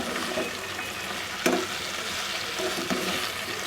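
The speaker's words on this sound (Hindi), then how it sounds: "बाद में हमने इनको अच्छी तरह से मिक्स कर लिया और इसको मैंने 4 से 5 मिनट ना तेज़ आंच पे सारे मसालों को अच्छी तरह से फ्राई करना" Okra fries with spices over high heat in a pan, a steady close sizzle with occasional stirring scrapes and a sharp clack of the spoon near the middle, no voices.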